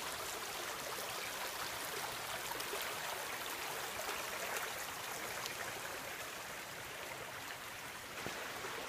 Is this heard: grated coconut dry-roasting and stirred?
no